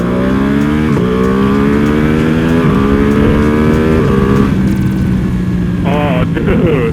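Heavily modded Yamaha R1M motorcycle revving through gears, a loud close engine howl rising and dropping between shifts, with a few popping bursts near the end.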